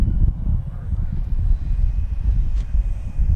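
An FMS P-51 Mustang racer RC model plane flies past, its electric motor and propeller giving a low, fluctuating outdoor drone mixed with wind buffeting, moderately loud throughout.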